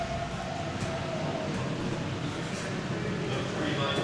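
A model train running on a layout portraying a Missouri Valley line at Deadwood, South Dakota, giving a steady, continuous rumble throughout at moderate loudness, with a voice talking over it.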